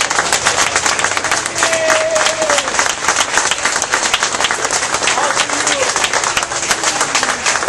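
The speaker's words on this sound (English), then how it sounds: "let's give him a tremendous round of applause." Loud, dense applause from a standing crowd at a veterans ceremony honoring an Eagle Scout who installed flagpoles, sustained steadily throughout with a few faint whistles or cheers rising above the clapping.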